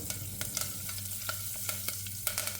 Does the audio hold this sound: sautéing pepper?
yes